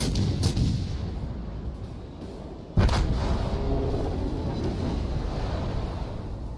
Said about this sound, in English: 11k salvo into that Wichita at the end there